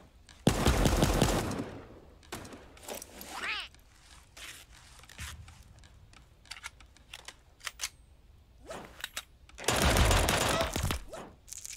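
Silenced pistol shots in a video game come as sharp, clipped pops spread across the stretch. Two louder, longer bursts of firing noise stand out near the start and near the end, with quieter gaps between.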